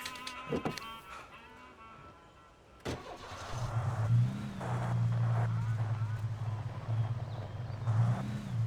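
A car engine in Alan Wake Remastered starts and drones steadily at a moderate level, with the pitch rising and falling slightly as it drives, while someone talks over it.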